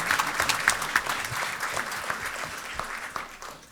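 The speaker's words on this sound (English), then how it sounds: "let's give them one more round of applause" An audience at a school board of education meeting breaks into sustained clapping to honor middle school student leaders, a dense, fairly close burst of many hands that tapers off toward the end.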